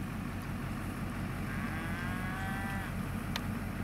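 Purebred Angus heifers moo at a Georgia fall cattle sale, one drawn-out, mid-distance low call rising over steady, heavy background noise.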